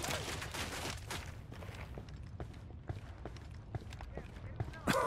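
Automatic gunfire in Ghost Recon Wildlands, with repeated sharp bursts spread through a busy combat mix. Steady background noise and a voice run underneath.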